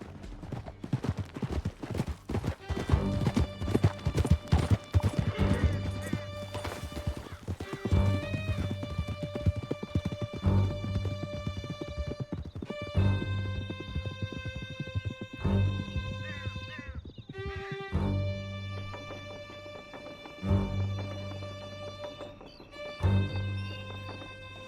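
Horses galloping in Red Dead Redemption 2, a rapid hoofbeat rhythm running steadily under a swelling orchestral score for the whole stretch, moderately loud.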